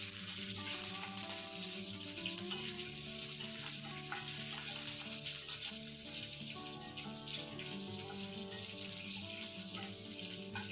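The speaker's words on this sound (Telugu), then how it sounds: "కొద్దిగా పచ్చాగా దంచి పెట్టుకున్న వెల్లుల్లి యాడ్ చేసుకొని అదేవిధంగా కొద్దిగా కరివేపాకు కూడా యాడ్ చేసుకొని ఇవన్నీ బాగా ఫ్రై అయ్యేలాగా కలుపుకుందాము" Crushed garlic and curry leaves frying in a pan while being stirred for a beetroot fry, a loud dense sizzle running throughout with background music over it and no speech.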